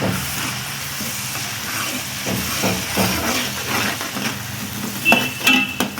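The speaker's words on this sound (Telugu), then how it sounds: "అల్లం పేస్ట్ వేసుకుని 2 స్పూన్లు వేసుకుని ఇది వేగుతూ ఉంటుంది" Ginger paste frying in hot oil for Andhra-style fish pulusu, a steady soft hiss and sizzle with occasional light clinks of a spoon against the pan, close and even throughout.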